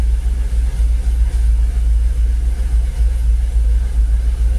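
A Jaguar XKR engine idles steadily below 1,000 RPM with the bonnet open, a loud, close, continuous low rumble with no throttle changes.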